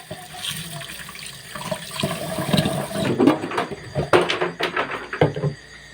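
Water runs from a tap to soak rice, a splashing flow that swells and grows louder partway through, with some clattering handling sounds near the end.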